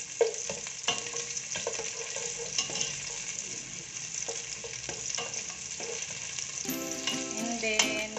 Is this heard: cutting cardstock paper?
no